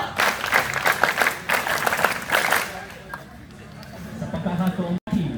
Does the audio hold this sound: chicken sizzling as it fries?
no